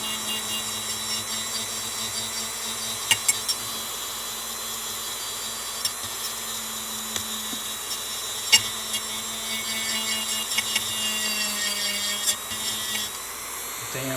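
Steady abrasive sanding hiss and a low motor hum in a build workshop, continuous and fairly close, with occasional small knocks and ticks over the top.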